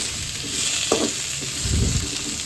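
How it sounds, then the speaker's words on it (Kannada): Radish and curry leaves frying in oil in a pan, a steady low sizzle with a brief stirring scrape and a few crackles, close and alone without any voices. "ಅದನ್ನ ಹಿಂಗೆ ಫ್ರೈ ಮಾಡ್ಕೋಬೇಕು."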